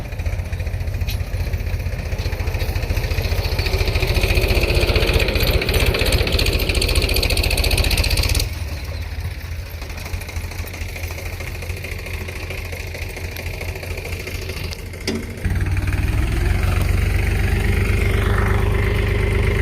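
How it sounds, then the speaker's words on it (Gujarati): A tractor stuck in a muddy farm field idles with a steady low rumble close by. The engine level drops partway through, then rises again near the end. No voices are heard. "તો પાછું ટ્રેક્ટર આવી ગયું છે ખૂતી દીધું હમણાં પણ"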